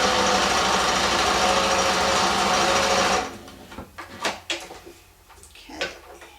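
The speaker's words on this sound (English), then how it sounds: "So we're going to get on our sewing machine here." A sewing machine stitches fabric for a decorative stuffed pumpkin, running in one steady, loud whir for about three seconds before stopping, followed by quieter clicks and handling sounds of the fabric and thread.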